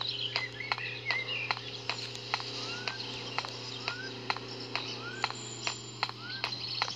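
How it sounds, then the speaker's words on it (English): Bird chirps in a video game, short rising tweets repeating every second or so over a steady low hum and regular ticking clicks, faint and alone. "Where is that bird?"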